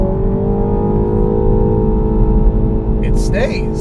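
A 2017 Mini Cooper S four-door with JCW tune holds its engine at red line, a loud sustained high drone that stays level, with a brief voice near the end.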